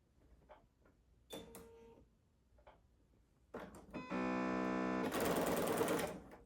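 A home sewing machine stitches a quilt square in chain piecing, first with a few slow ticks and clicks, then two fast loud bursts of rapid whirring stitches near the end, close and alone.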